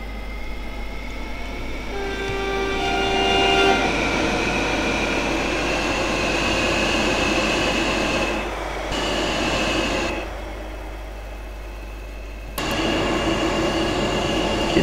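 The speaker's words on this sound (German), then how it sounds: "Schauen wir uns den Zug mal noch mal von außen hier schön an." A Desiro ML train in Train Simulator 2016 on the Mittelrheinbahn runs with a loud steady rumble and rolling noise, high tonal whines early on, and a couple of sudden drops and returns in level.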